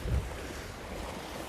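Sea waves on the central beach of Anapa on a cold, windy autumn day, a low broadband wash with a slightly louder surge at the start, steady and moderately distant with wind buffeting the microphone.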